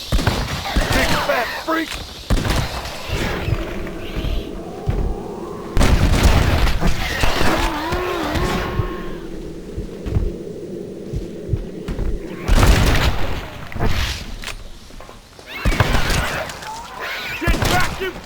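Gunfire and explosions from the Red Dead Redemption Undead Nightmare video game, with heavy booms and bursts of shots under shouted voices throughout.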